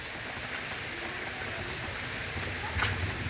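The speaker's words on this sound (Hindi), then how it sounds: "ज़बरदस्त बारिश हो रही है, बहुत ज़्यादा हो रही है" Heavy rain pours steadily in cold weather by a roadside, a dense even hiss with a brief brighter splash near the end, fairly faint overall.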